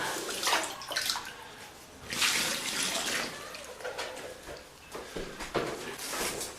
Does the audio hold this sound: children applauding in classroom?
no